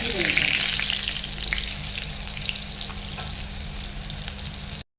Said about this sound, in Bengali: উল্টে আবার ভেজে নিতে হবে